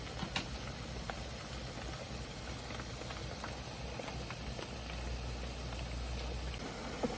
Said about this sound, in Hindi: कितने अच्छे पकोड़े फ्राई हो रहे हैं जनाब